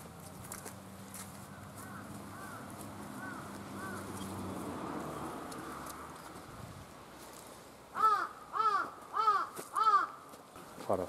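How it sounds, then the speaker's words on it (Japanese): A crow caws four times in quick succession near the end, loud and fairly close, along an old highway walk through the countryside of Ishikoshi, Tome City, following a stretch of low outdoor rumble and shuffling. "カラスが鳴いています。"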